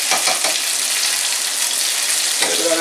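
Crushed garlic hits hot oil with a loud, bright sizzle that spreads evenly and holds steady throughout, a few spatter crackles at the start and again near the end, no talking.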